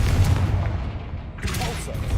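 Deep booming blast of the Confringo spell in Hogwarts Legacy, heavy low rumble followed by a second burst, with speech-like sounds mixed in.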